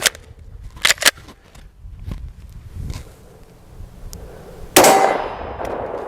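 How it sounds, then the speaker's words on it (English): A .45 ACP 200-grain Xtreme Penetrator round is fired from an HK Mark 23 pistol at an eBay Level 3A riot shield, giving a sharp, loud metallic clang near the end. Fainter clicks and knocks come before it. "up next we got 45 ACP. Coming out of the HK Mark 23, and this is a 200 grain Xtreme penetrator"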